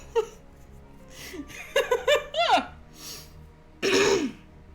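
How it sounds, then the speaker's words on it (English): A person coughs and clears their throat several times in short bursts, mixed with chuckling, close to the microphone. "could you hear me coughing?"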